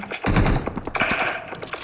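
Rapid bursts of automatic gunfire in a shooter video game, dense loud volleys followed by shorter scattered shots, close and alone without speech.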